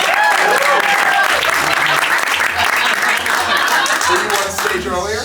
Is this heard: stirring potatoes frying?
no